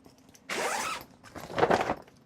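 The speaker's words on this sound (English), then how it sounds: "Zipper" A clothing zipper is pulled in two close, sharp rasping strokes: a steady zip followed by a rougher second pull. It sounds loud and alone, with no talking.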